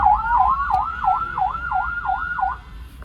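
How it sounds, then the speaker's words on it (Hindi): A newly installed hooter siren on a motorcycle wails in a fast, regular up-and-down cycle, loud and close, repeating about seven times before cutting off. "तो हूटर हो चुका है इंस्टॉल, आवाज़ आपने सुनी है, फिर से सुनाते हैं आपको।"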